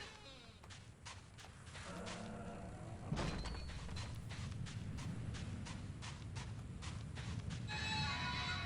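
A donkey brays amid clopping hooves in the video game Clive Barker's Undying, the braying loud and drawn out over busy game ambience with repeated sharp hoof clicks, no voices present.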